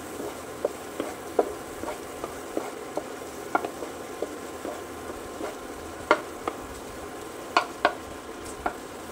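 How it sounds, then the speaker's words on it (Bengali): Spice paste with Kashmiri chili powder stirred and sautéed in a pan, soft steady sizzle under scattered sharp clicks and scrapes of a spoon against the pan, close and fairly quiet, no talk. "মশলাটাকে ভালো করে কষিয়ে নেব।"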